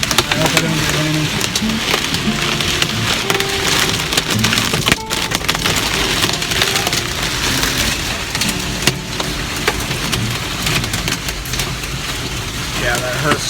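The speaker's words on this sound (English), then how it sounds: "That is hail." Hail pelting down during a storm, a dense, loud, continuous clatter of impacts with scattered sharper hits throughout, and a voice heard faintly underneath.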